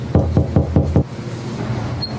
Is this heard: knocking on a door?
yes